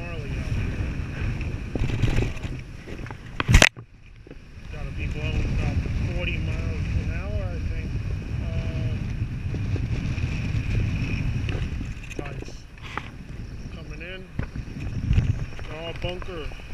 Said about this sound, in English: As you can see, the wind is really shooting hard from